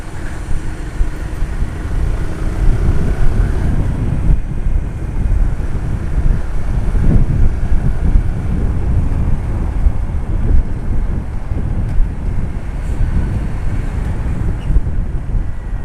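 Steady, loud wind buffeting the microphone while riding as a passenger on a motorcycle, a constant low roar throughout with no voices.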